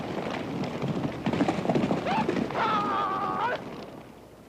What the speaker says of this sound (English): The modern horses have been interbred with smaller but tough Mongolian ponies, and with the big Kazakh horses